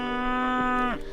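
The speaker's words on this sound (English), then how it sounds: "these are larger framed cattle right here" A single long, low moo from a large-framed beef cow on a drought-hit ranch, close and steady, then trailing off at the end.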